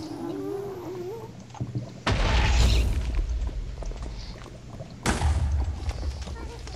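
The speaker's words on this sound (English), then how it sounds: "There's a ghast, Webber. He's attacking me." Ghast attacks from Minecraft with explosions: two loud, broadband booms that go off about three seconds apart over steady game noise, each leaving a rumbling tail, and a high wailing cry comes before them.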